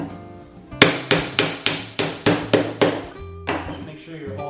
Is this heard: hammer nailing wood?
yes